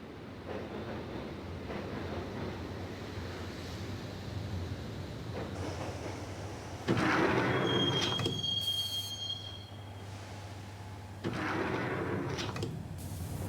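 Train ride in the Max Payne shooter game: a steady rumbling rattle of a moving carriage with clattering wheels, a brief high metallic squeal midway and louder rushing bursts, no voices.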